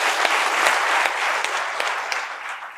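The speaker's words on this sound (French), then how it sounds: "Applaudissements pour Malcolm." An audience applauds a guest named Malcolm arriving at a café-style comedy show, a dense, steady clapping that holds loud throughout with no voices on top.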